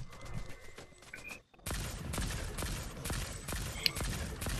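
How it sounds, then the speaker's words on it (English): Rapid crackling plasma rifle gunfire in a video game bursts in after a brief pause and continues densely to the end, with a voice heard beforehand. "shoot your plasma rifle"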